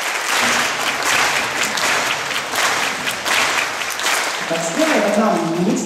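A large audience claps along on each beat in a loud, continuous, evenly pulsing wash, with a voice rising above it near the end.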